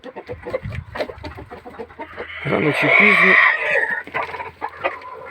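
Backyard hens cluck and a rooster crows nearby, the calls rising loudly mid-clip over someone talking throughout.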